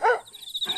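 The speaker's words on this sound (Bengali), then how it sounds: "এত রাতে কুকুরটা আবার ঘেউ ঘেউ করছে কেন?" A cartoon dog gives a single short bark at night, fairly faint and alone, followed by a thin high whine.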